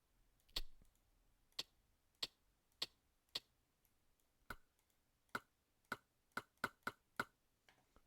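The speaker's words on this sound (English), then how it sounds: "I'll just make a clicking sound." Crisp clicking made for knitting needles in the game One Hour One Life: about a dozen sharp, close clicks, the first few evenly spaced, then a quicker, higher-pitched run, isolated with no talking.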